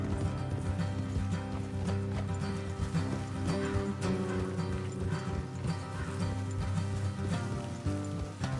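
Horses clip-clop steadily on a path in the Red Dead Redemption 2 video game, hooves beating in a quick rhythm over soft game music and ambience, with a brief whinny in the mix.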